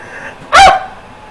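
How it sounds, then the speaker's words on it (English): A single sharp dog bark rings out once, loud and close, in an otherwise quiet moment. "Sounded like a dog, Adam."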